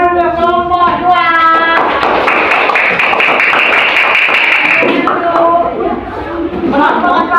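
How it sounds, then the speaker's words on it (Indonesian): Applause from a classroom of students for a group that presented on the planets, a dense patter of clapping hands rising over children's chatter and voices, with talking before and after. "Mari tepuk tangan untuk kelompok 2."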